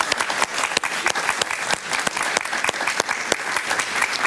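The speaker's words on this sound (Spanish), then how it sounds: "Un aplauso para Ramfis." Studio audience in a televised interview claps steadily and loudly, a dense, even round of applause with no talk over it.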